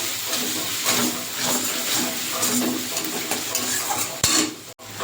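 Ginger and garlic paste sautéed over fried onions in a pan, a loud continuous sizzle with repeated scraping stirs of a spoon against the metal and a brief knock near the end.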